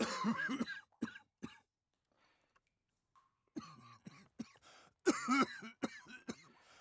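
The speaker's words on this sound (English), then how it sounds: "You can stop coughing in my ear now" Close, harsh coughing fits amid smoke from burning oil, a burst at the start and a longer run of repeated coughs later, separated by a near-silent gap.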